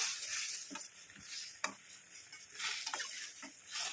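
Sugar stirred into a homemade face pack paste, heard as soft, faint scraping and clinking strokes at irregular intervals, close but quiet.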